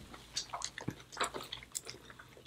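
Close, wet chewing and biting of seafood such as lobster and king crab in butter sauce, a few short squishy smacks over a couple of seconds, with no speech.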